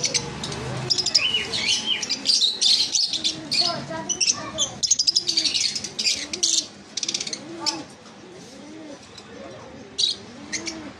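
Caged pet lovebirds, conures, java sparrows and cockatiels at a bird sale chatter and chirp densely and continuously, shrill calls overlapping, with someone talking over them.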